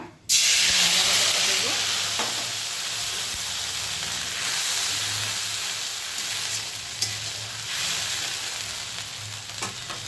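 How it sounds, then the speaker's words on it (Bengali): Whole cardamom pods and cinnamon dropped into hot oil in a kadai burst into a loud, bright sizzle that settles into a steady frying hiss, with a few faint stirring clinks. "তেলটা গরম হয়ে গেছে একটু গোটা গরম মশলা এলাচ আর দারচিনিটা আমি দিয়ে দিলাম"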